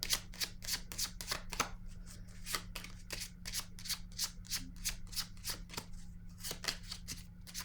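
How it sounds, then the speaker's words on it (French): A deck of tarot cards is shuffled by hand in rapid, steady riffling bursts, close and clear against a faint low hum, with no talking. "je vais piger une autre carte"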